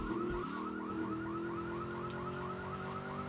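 An ambulance siren in a GTA game wails loud and close in fast, repeating rising-and-falling sweeps over a steady engine drone, with no voices.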